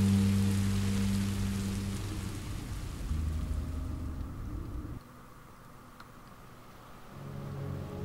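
Rain and thunder in the Minecraft video game: steady hissing rainfall with a deep rumbling roll of thunder that fades midway, then a low rumble returns near the end, with no voices.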